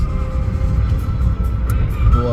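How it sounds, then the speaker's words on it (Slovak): A bus passes on the road in oncoming traffic, a loud, close, continuous rumble with tyre and engine noise that rises again at the end, with no talk over it. "Či autobus."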